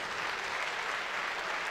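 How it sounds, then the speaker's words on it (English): Crowd at a World Games 2017 lightweight men's powerlifting competition applauding and cheering a lifter, dense continuous clapping filling the hall, loud and sustained without a break. "People cheering him on."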